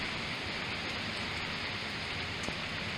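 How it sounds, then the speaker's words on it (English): Steady rain and gusty wind during Tropical Storm Ian in Florida make a constant, fairly faint broadband hiss with no distinct drops or pauses. "The rain is let up a little bit, but it's the whipping wind, and you can still hear it howling a little bit."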